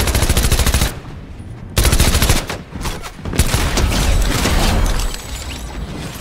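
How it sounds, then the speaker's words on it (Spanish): Gunfire in a first-person shooter video game: loud, rapid bursts of shots with short pauses between them, dense and continuous, with no talking over them. "nosotros fuimos los que le dimos el escopetazo final"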